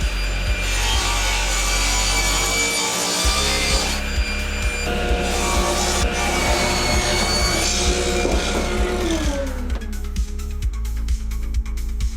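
A wood and epoxy bowl blank being sawn with a steady rhythmic rasp under a continuous motor drone, the cutting tone shifting and fading near the end.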